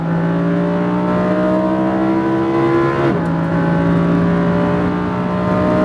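A Lamborghini Huracan accelerates hard on a track at SpeedVegas, its engine note climbing steadily and loudly, dropping briefly at a gear shift midway, then rising again. No one speaks.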